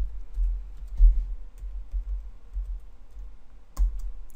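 Keystrokes on a computer keyboard while entering a spreadsheet formula, scattered soft clicks and taps in short irregular bursts, close and quiet, with no talk.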